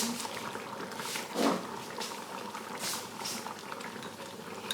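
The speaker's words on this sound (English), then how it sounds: "I'm going to turn the heat down just ever so slightly and carry on a bit longer." Marmalade bubbles steadily in a pan over the heat, a soft continuous boiling with popping bursts, fairly faint and close, with no talk over it.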